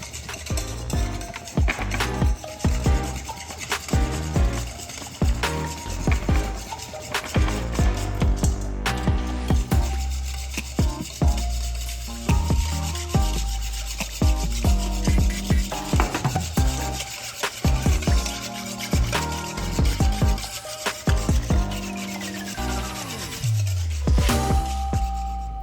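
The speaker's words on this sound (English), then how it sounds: "Okay, the whisking is done." Balsamic vinegar and olive oil vinaigrette being whisked in a bowl: continuous, close, rhythmic scraping and rubbing strokes with a steady beat throughout, with no voices.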